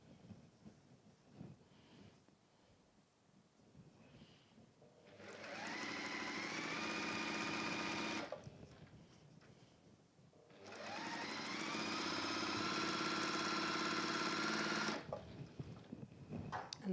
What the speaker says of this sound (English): I'm just going to sew a line of stitching across that top there and do that on both.